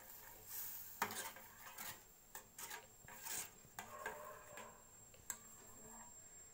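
A spoon stirring paneer kheer with chopped almonds and chironji in a pot in a home kitchen, giving a run of close scraping, rubbing clinks against the metal with uneven strokes.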